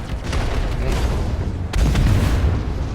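Missile explosions in a Star Citizen dogfight against Vanduul ships, heard as a continuous heavy rumble with a sharp new blast about two-thirds of the way through, loud and close.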